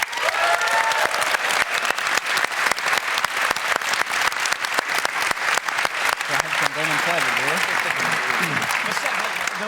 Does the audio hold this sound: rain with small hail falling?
no